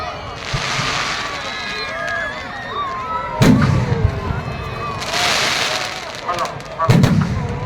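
Fireworks at an outdoor Dussehra Ramleela celebration on a polo ground in Vadodara, with heavy booming blasts and crackling bursts recurring every couple of seconds amid a noisy crowd.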